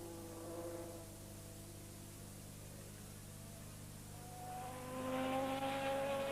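A 1984 McLaren Formula 1 car at the Brazilian Grand Prix, heard as a sustained engine whine with steady tones that climb as it accelerates and grows louder toward the end, over broadcast background noise.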